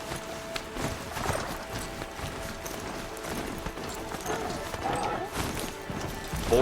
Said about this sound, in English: don't know how to tell my horse to stop running